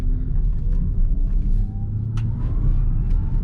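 An MG5 EV Long Range electric car accelerating on a road, heard from inside as a low, steady rumble of tyre and road noise with a faint rising motor whine, no voices.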